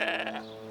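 Sheep bleat below a mountain massif, one loud wavering bleat that starts near and close, then trails off into a fainter, steady tail.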